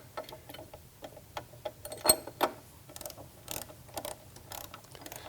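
A wrench turning on a bracket bolt while a tower retrofit kit is installed on a studio reformer, giving quiet, irregular ratcheting clicks and small metallic taps close by, with a couple of louder knocks partway through.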